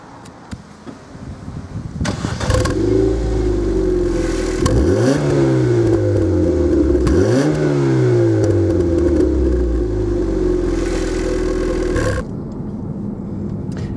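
A 2000 Ford Puma 1.7 16v Zetec-S pulls away and accelerates, its engine note climbing through gears with clear dips at each shift, loud and steady from inside the car before easing off near the end.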